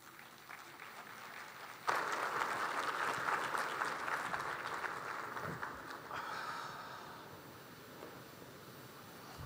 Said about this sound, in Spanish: Recibámosle con un fuerte aplauso.